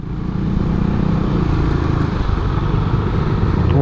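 A fuel-injected Suzuki Satria motorcycle engine revs loudly and continuously at close range, a rough, steady roar with no talk.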